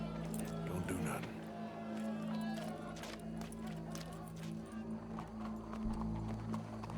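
Horse hooves clip-clop steadily in Red Dead Redemption 2 under a humming game soundscape, faint and mixed with ambient noise, while voices talk over it.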